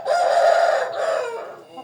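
A rooster crows loudly and close by in one long, drawn-out call that tails off, among five-month-old young chickens clucking around it, with no talk.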